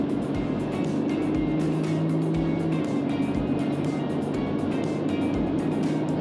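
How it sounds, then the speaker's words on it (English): A Ford Ranger Super Duty pickup pulls hard under full throttle, the engine drone rising steadily with a continuous road and wind roar inside the cab, with no talk over it. "Here's the 100 zone, foot down."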